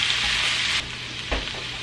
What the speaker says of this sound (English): I'm going to stir this up and just kind of cook these veggies.